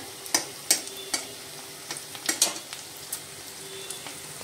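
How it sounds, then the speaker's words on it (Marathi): Curry leaves dropped into onions frying in oil in a pan give a soft, steady sizzle broken by several sharp clicks and scrapes of stirring, close and fairly quiet. "कांदा भाजून झालेला आहे, आपण आता टाकूया त्याच्यामध्ये कढीपत्ता"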